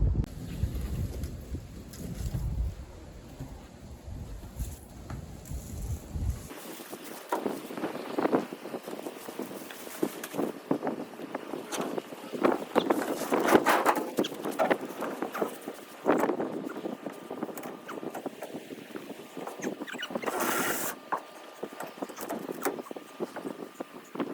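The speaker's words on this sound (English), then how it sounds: "Wind's blowing" Wind gusting at about 15 miles an hour across an outdoor greenhouse build site, a steady broadband rush with buffeting against the microphone, loud and continuous throughout.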